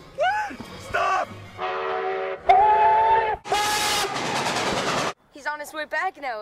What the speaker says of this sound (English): You hear that train whistle sooner than it hears itself.